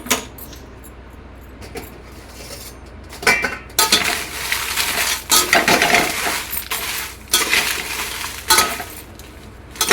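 Guntur chillies and coriander seeds are stirred with a little oil in a pan for sambar powder, giving loud, close metallic scraping, rattling and clinking in repeated bursts, with no talking.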